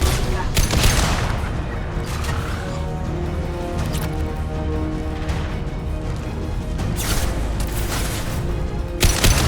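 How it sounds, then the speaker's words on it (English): Sustained gunfire rattles through a Mass Effect 2 battle, dense bursts and heavy booms layered continuously over a rumbling background, loud and close, with occasional louder blasts. "Weapons ready. They're all yours."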